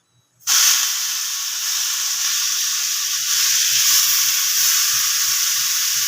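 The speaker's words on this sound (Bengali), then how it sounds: "গাজরগুলোকে ছেড়ে দেবো" Grated carrot drops into hot oil for Bengali vegetable chops: after a brief silence a loud, sudden sizzle bursts out and settles into a steady, close hiss of frying with light crackles, and no one speaks.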